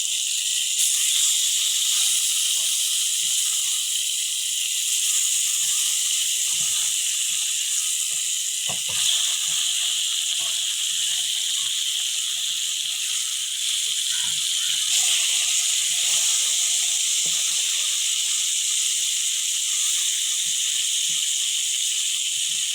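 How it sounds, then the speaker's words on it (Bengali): A piece of khuri fish frying in hot oil gives a steady, close, bright sizzle with a hissing wash that runs unbroken throughout, dotted with small pops and crackles. "এখন আমি আরেক পিস ভেজে নেব।"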